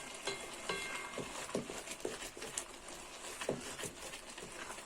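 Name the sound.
vigorously stirring leafy greens in a cooking pot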